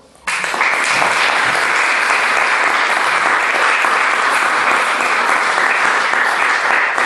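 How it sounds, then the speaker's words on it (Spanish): A church congregation bursts into loud applause during a sermon after a brief quiet start, then keeps up sustained, dense clapping at full strength. "Denle un aplauso al Señor."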